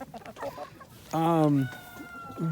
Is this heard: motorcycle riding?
no